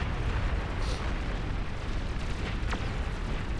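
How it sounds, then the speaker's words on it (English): An atomic bomber strike in the strategy game Beyond All Reason sets off a massive, roaring explosion that fills the whole stretch with a dense, continuous rumble and scattered crackling bursts. "Insane explosion there from the atomic bombers"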